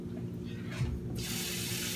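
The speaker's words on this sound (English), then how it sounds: "I'm going to add some water to it" Water from a tap runs into a bread dough mix in a kitchen, a steady broadband hiss that swells in the second half and continues alone at moderate loudness.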